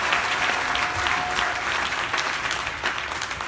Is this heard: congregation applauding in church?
yes